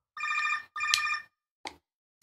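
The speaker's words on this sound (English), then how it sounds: "that was a phone call" A telephone bell rings in two clear electronic bursts, followed by a short click and a brief knock, heard alone on a podcast recording.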